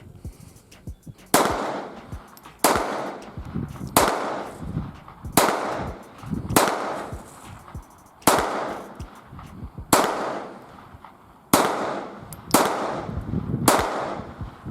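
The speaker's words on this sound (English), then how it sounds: "Alright, now I'm going to fire a couple shots downrange with the Walther." Walther P22 pistol fired downrange outdoors, about ten sharp loud shots spaced roughly a second or more apart in an uneven rhythm, each cracking report trailing off with echo.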